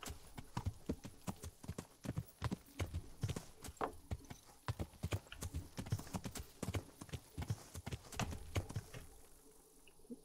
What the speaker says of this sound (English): Forget this horse riding.